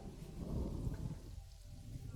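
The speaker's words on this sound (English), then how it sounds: "Oh, I love that rain. That is gorgeous." Steady rain with a low rolling rumble of thunder in the video game Planet Zoo, a continuous wash of noise without speech.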